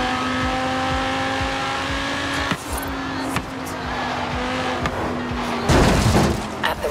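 A Nissan Skyline GT-R V-spec in Forza Horizon 3 holds a steady engine drone with a tonal whine, with brief tire scrubs and a louder skid or rough surface noise near the end.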